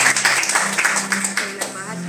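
Church congregation clapping hands for Jesus, a continuous loud crowd clap with sharp individual claps throughout, mixed with voices and a sustained sung or shouted tone underneath.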